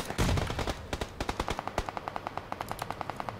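Automatic gunfire in the PUBG Lite shooting game, a rapid, evenly paced burst of sharp cracks close by, running steadily for several seconds with no talk.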